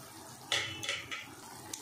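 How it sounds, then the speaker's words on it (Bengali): Fried potatoes and beans drop into a pot of boiling fish curry, a few soft, quick splashes in close succession, brief and quiet. "ঝোলটা ফুটে গেছে, এবার আমি ভেজে রাখা আলু আর সিমটা দিয়ে দিচ্ছি।"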